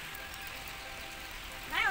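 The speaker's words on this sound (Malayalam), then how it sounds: "അപ്പൊ കുറച്ച് കുറച്ച് മഴയൊക്കെ പെയ്യുന്നു." Light rain pattering steadily outdoors in a home garden, a soft even hiss throughout the short stretch, with a brief louder sound near the end.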